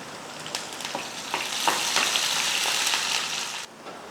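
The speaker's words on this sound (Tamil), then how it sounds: "கடுகுளுந்து பொரிஞ்சதுமே வெங்காயம், சின்ன வெங்காயம் ஒரு 4-5, கூடவே 2 வரமிளகாய், கூடவே கொஞ்சம் பெருங்காயம்." Small onions, two dried red chillies and a pinch of asafoetida fry in a hot mustard seed tempering with a dense, steady close sizzle, broken by a few sharp crackles and stirring scrapes, then abruptly fading near the end.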